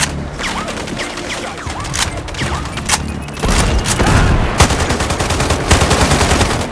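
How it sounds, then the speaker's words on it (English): Gunfire in the shooter game Sniper Ghost Warrior Contracts 2: rattling bursts of rapid shots and sharp reports, loud and near, intensifying into heavier sustained firing after about three and a half seconds. "Shots fired! Shots fired!"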